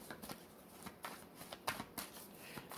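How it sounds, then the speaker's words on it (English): Tarot cards being shuffled in quick riffling bursts, a series of soft papery flutters and snaps repeating close up with brief pauses between. "let's go ahead and shuffle a little bit more"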